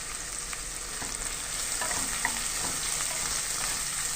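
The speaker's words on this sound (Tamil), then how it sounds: "இதில் ஒரു பெரிய வெங்காயம் மெலிசாக கட் பண்ணது சேர்த்து நல்லா வதக்கி விட்டுக்கலாம்." Thinly sliced large onion sautéing in hot oil with whole spices for Tamil kuska biryani, a steady soft sizzle with occasional stirring scrapes and clicks, close and moderately quiet, no talk.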